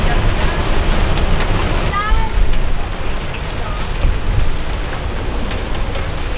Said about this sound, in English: It is hailing right now.